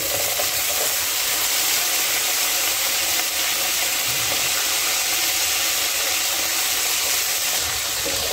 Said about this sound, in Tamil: இதை லைட்டாக ஃப்ரை பண்ணிக்கிங்க